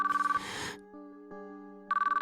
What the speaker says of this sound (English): As I listened to the phone ring, a strange sort of urgency started to well up within me.